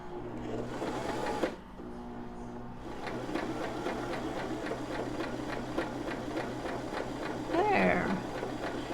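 A sewing machine stitches steadily in rapid, even pulses through a granddaughter's first sewing session, pausing briefly near the start, with speech and a brief cat-like mew over the motor.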